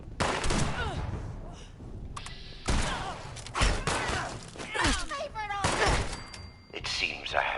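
Gunfire in Fallout 76 on PS5, repeated bursts and sharp shots in several loud clusters, mixed with game sound effects and voices talking over the action.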